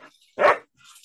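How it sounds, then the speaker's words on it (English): A single dog bark, short and fairly close, standing alone against near silence with faint background noise after it. "dog?"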